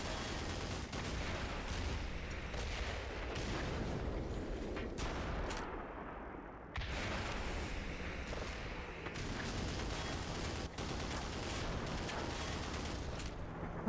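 Heavy gunfire from the video game Black Mesa, aimed at a tank: dense, continuous bursts of shots and booming blasts fill the whole stretch with only a brief lull midway, loud and close, with no talking.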